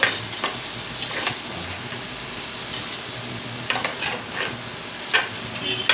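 Food sautéing in a pan, a close and continuous sizzle broken by intermittent scraping stirs.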